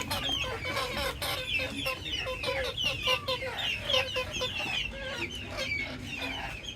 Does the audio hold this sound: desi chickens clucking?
yes